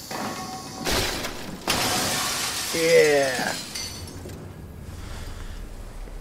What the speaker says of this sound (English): Since we can't open any doors, we'll just break the glass, right?